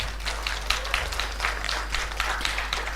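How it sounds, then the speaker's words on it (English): A large audience applauds at an industrial design forum, the dense, steady clapping filling the room evenly for the full few seconds with no clear break. "Everybody give them a round of applause."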